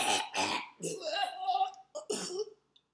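A voice imitates choking, making a string of gagging, throat-clearing and coughing noises that come close and loud in uneven bursts, with short gaps between them.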